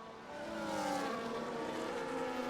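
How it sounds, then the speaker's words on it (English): Racing cars roar past in the distance on a Singapore circuit, engines whining and shifting pitch as they go by, steady and fairly faint. "Just let me know if you can hear the sound of the cars."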